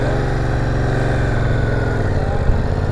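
A Yamaha R7 Anniversary Edition supersport motorcycle engine pulling in first gear, a loud, close, steady throbbing drone with a faintly rising pitch and one brief blip near the end.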